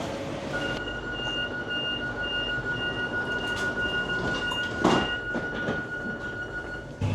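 Rail car rumbling with steady mechanical noise and a thin high whine, a brief clunk near the end, as a train gets moving from Madrid airport.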